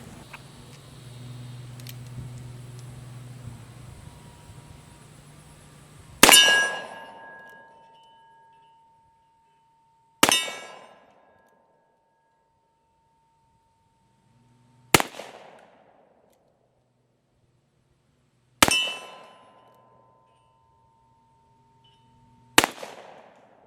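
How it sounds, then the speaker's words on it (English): Pietta 1858 Remington revolver with a .45 Colt conversion fired outdoors at steel targets: five loud, sharp shots spaced several seconds apart, each ringing out and decaying, after some quiet handling noise at the start. "Let's go fire it downrange on some steel."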